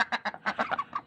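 Ducks on a small farm quack in quick, close bursts, about eight loud honking calls in rapid succession with brief gaps between them.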